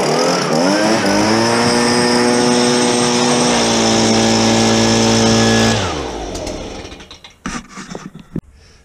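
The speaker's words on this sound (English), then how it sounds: "scraping off all the old crap grass and blowing it away with a leaf blower" A leaf blower blasts old grass away from a lawnmower with a loud, steady motor drone that holds for several seconds, then dies down, leaving a few scattered clunks.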